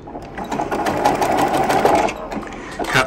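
A sewing machine runs a short back stitch on quilt binding, a steady close whir with rapid needle chatter lasting a few seconds, then slowing to a stop.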